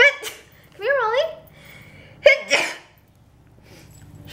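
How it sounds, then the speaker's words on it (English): A sharp sneeze bursts out, followed by a voice and then a second quick burst, close by and in a quiet room. "After you sneeze all over."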